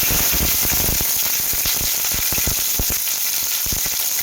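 Chopped onions drop into hot oil with a little cumin and sizzle steadily, a dense continuous crackle broken by sharp little pops, close and fairly loud.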